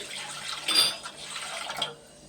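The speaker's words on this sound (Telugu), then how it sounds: "గిన్నెలో నీళ్ళు పోస్తున్నాయండి" Water splashes and trickles briefly into a container, a soft pouring sound lasting a couple of seconds before stopping.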